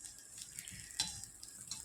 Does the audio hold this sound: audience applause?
no